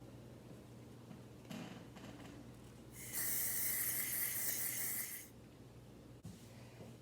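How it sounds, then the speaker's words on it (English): A steady aerosol hiss of hairspray sprayed onto paper bursts for about two seconds, close and fairly loud, over a quiet room hum. "I'm simply going to spray it with hairspray."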